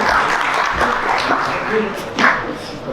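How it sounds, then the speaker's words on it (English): An audience at a Web3 conference session applauds as a speaker is welcomed, a close burst of clapping that fills the whole stretch. "Please give a round of applause to Mr. Raj Kapoor."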